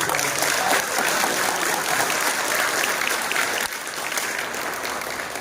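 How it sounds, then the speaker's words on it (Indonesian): Audience at a regional election candidates' debate session applauding, a dense, sustained burst of clapping that continues for several seconds before easing slightly. "Baiklah, mari kita semua berikan aplaus yang meriah."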